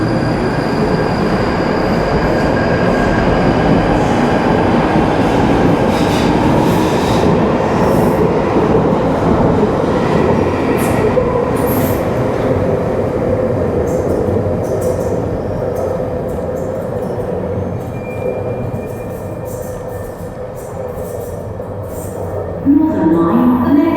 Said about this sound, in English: The train will now leave for Morden.